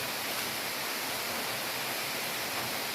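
Naruro Falls waterfall roars as a steady, dense, broadband wash of falling water, constant and fairly loud with no breaks or voices.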